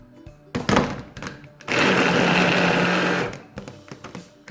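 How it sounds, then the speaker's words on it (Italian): An electric blender whirs loudly for about a second and a half, chopping a chicken croquette mixture with garlic, with short clunks and handling sounds before and after. "e frulliamo"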